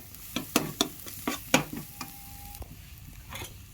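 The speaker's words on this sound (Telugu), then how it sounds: "మిర్చి కారం పొడి వేసి బాగా ఇలా కలియపెట్టి" A spoon scrapes and taps around a frying pan as chili powder is mixed into a mushroom curry, several quick close strokes over a low sizzle, then quieter stirring.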